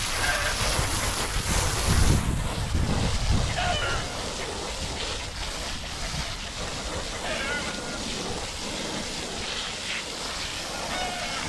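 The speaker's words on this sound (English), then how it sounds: "It's so windy today" Strong wind gusts outdoors in a home garden beside a compost area, buffeting the microphone in a loud, continuous roar that is heaviest early on and then settles into a steady rush.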